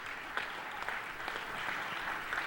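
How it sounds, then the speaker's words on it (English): Attendees at a Los Angeles city council special meeting give a round of applause, steady and fairly faint clapping with a few sharper claps, heard from a distance. "round of applause."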